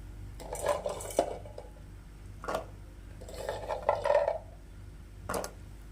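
Cleaned gooseberries tipped into jaggery syrup in a pan, heard as a few close clinks and clatters of utensil against metal in separate bursts with short pauses between, and no talking.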